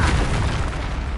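A Depulso spell is cast in Hogwarts Legacy, landing as a single loud, close, rumbling boom that fades quickly.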